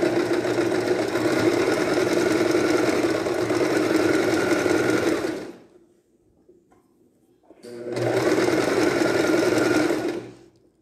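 A sewing machine runs a zigzag stitch while making a child's bomber jacket: a loud, steady whir for about five seconds, a brief pause, then another run of stitching.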